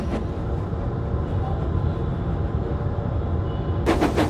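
A steam locomotive puffs along, a dense continuous rumble of chuffing and rolling railway noise that stays steady and loud throughout, with a brief hissing burst near the end.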